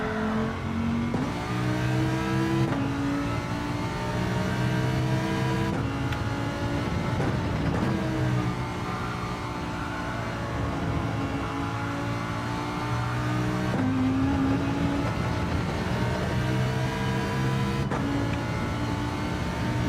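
A race car engine in Gran Turismo 7 revs hard during an online lobby race. The pitch climbs repeatedly and drops sharply at each gear change, with a continuous, loud engine drone throughout.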